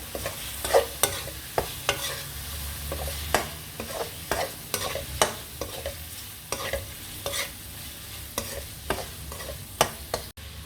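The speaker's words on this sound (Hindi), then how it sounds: "अच्छे तरीके से इसको मिक्स कर लेना है" Okra chicken with turmeric being stirred in a frying pan: a steady series of sharp spoon scrapes and taps, close and fairly loud, over a low continuous sizzle.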